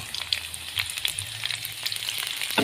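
Red chili and anchovies sizzle and crackle as they are stir-fried in a pan for a coconut-milk pumpkin dish, a steady close frying hiss with occasional stirring scrapes, no talking.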